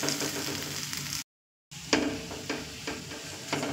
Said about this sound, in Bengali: আলুটা ধৈর্য ধরে 5 থেকে 7 মিনিট মিডিয়াম ফ্লেমে কষিয়ে নেব